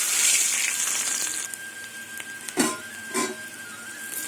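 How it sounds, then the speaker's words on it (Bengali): Potatoes fry in hot oil seasoned with dried red chilli and whole cumin, a steady close sizzle with a few sharper pops and clinks of a utensil. "এবার আলুগুলো দিয়ে দেবো তেলে"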